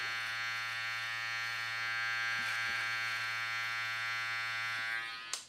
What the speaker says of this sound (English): I'll grab my trimmer and I'll snap my first guideline, and then I'll shave upwards.